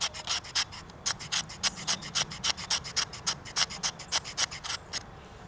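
Squared spine of an Opinel Explore knife scraping shavings off wood, about twenty quick rasping strokes in a steady back-and-forth rhythm, close and crisp, with no talk.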